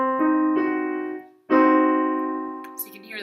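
A diminished chord on a keyboard instrument, built from stacked minor thirds, rings out in two sustained strikes, the second louder and decaying slowly, with no voices.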